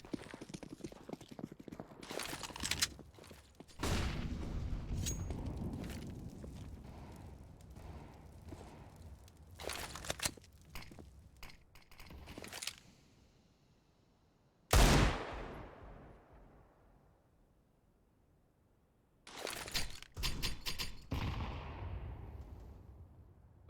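Counter-Strike match on Dust 2 with AK rifles and pistols: bursts of gunfire crack in clusters separated by pauses, including one sharp isolated shot, with faint background talk.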